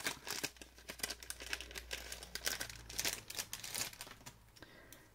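Plastic packaging around Harry Potter stickers from an AliExpress order, handled up close: a steady run of loud, sharp crinkles and rustles with no voice.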